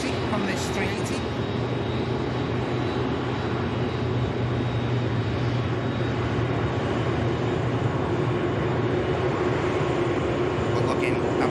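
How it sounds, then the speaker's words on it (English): An Airbus A380 taxis briskly at Manchester Airport, its engines giving a steady, loud broadband rumble and whine that holds level throughout, with no break or fade. "Fairly pacey taxi on this 380."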